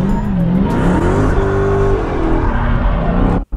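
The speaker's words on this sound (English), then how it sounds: "So in like tight spaces like this, you're gonna want to do like a brake stand first." A car doing a brake stand in a tight space, its engine revving hard with rising and falling pitch, loud and close, then cutting out abruptly at the end.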